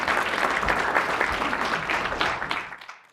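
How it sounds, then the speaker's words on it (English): Crowd at an entrepreneurship and AI event clapping for a two-time NBA champion, a full, lively burst of applause that carries strongly and then quickly tapers off to quiet. "you can clap for that"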